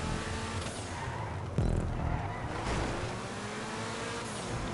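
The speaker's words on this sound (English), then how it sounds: "Okay, that drift was not the best." A Lampadati Tropos Rallye drifts during a GTA stunt race, its engine droning steadily while a tire skid rises partway through, loud and continuous with no pauses.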